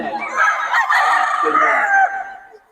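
A stag, a young gamecock rooster, crows once at close range, a loud strained call of about two seconds that fades out at the end.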